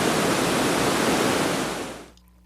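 A waterfall in the Watkins Glen gorge roars as a loud, dense, continuous rush of falling water, then fades away abruptly near the end, leaving near silence.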